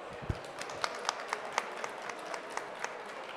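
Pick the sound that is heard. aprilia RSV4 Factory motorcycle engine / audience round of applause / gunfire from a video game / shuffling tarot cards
audience round of applause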